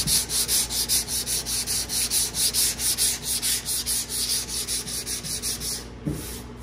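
Rhythmic back-and-forth strokes of 240-grit sandpaper on a sanding block working automotive body filler, a steady dry rasping that pulses about four times a second, close and loud, with no talk.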